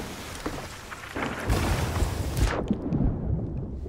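A thunderstorm in a video game, with heavy rain hissing steadily throughout and a deep rolling thunder crash swelling midway before cutting off abruptly, loud and close.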